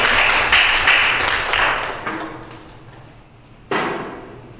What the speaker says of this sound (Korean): 우리 선교사님 나오실 때 박수, 격려의 박수를 한번 할렐루야 박수로 맞이하시겠습니다.